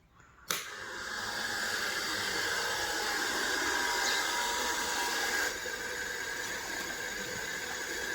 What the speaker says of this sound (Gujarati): મોટર ચાલુ કરી.